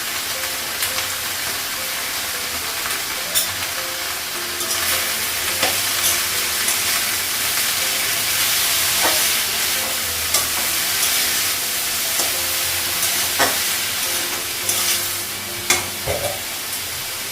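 Leafy greens cooked with turmeric, salt and black cumin sizzle steadily in a pan, with a continuous hiss of frying and scraping stirring clatter, and no voices.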